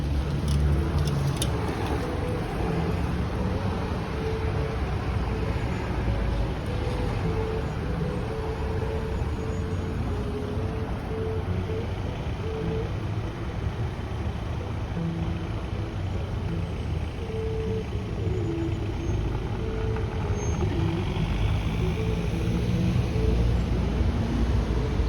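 A vehicle fitted with a badly worn tire is driven on a short quick run, its engine and road rumble steady and close throughout with a constant broadband roar.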